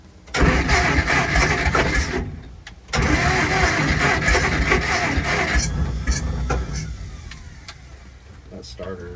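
An old Jeep Forward Control, parked for 40 years, cranks on a struggling, overheating starter motor in two long, loud grinding bursts, the second fading as the starter labours. People talk in the background.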